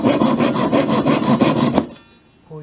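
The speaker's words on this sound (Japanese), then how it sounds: "ハンマーを交換するとシャンクの先がねこのように出てしまいますので、これをカットしているところです。" A hand saw cuts through the protruding wooden hammer shank ends of a Yamaha G2E grand piano during an overhaul, using a guard block of wood: quick, even rasping strokes up close, stopping abruptly near the end.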